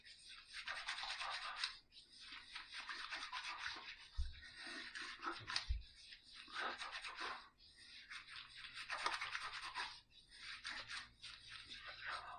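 Cube 2.0 shave soap cube rubbed against whiskered facial skin, a close, rhythmic bristly scrubbing in repeated strokes with brief pauses between passes, no talking.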